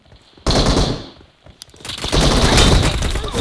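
Gunshots in the video game PUBG burst out as a loud, dense volley, drop away briefly, then return as sustained heavy firing that stays close and harsh to the end.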